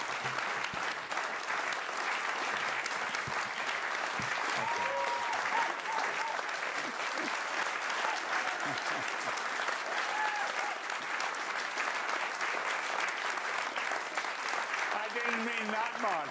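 Sustained audience applause at an art lecture fills the room evenly and steadily for a long stretch, with a few faint voices and chatter audible under the clapping.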